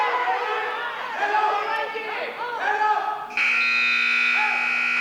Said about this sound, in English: And there's the buzzer for the end of the first bout.